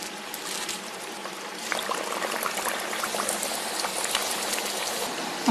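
Thattai rice crackers frying in hot oil, a dense, steady bubbling hiss that swells slightly partway through and stays close and even, with no voices.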